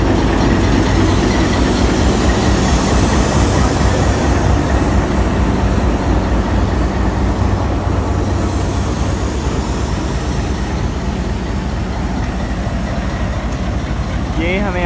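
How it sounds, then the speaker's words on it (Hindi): Pakistan Railways Millat Express, the 18 Down service, with locomotive PH2811 at the head, gives a steady loud rumble and low engine drone throughout, with faint clanking near the end. "और ये रहा हमारा आज का लोकोमोटिव PH2811।"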